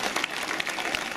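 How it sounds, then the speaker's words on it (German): Crowd applause in a town market square at the ADAC Sachsenring Classic 2016 motoring event, a brief steady patter of many hands clapping at moderate distance with no talk. "die verdient einen riesen Applaus für das, was sie hier auf die Beine gestellt haben"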